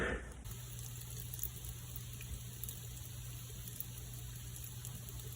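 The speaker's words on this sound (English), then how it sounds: "And I'm still hearing all that bubbling." Steady fizzing and bubbling close by from homemade rice wine (doburoku) fermenting in a jar, a continuous wet hiss over a low hum, with no voices.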